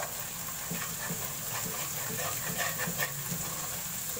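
Onions sizzle in a pan for dhaba-style homemade chicken masala, cooking until golden brown: a steady, close hiss of frying that barely changes from start to finish, with no voices.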